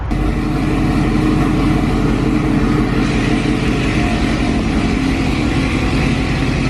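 A Corvette Z06 with cold air intake, tune, long tube headers and E85 fuel runs on a dyno, its engine a steady, loud roar held throughout without any talk.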